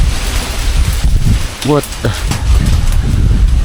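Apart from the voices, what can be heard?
strong wind outdoors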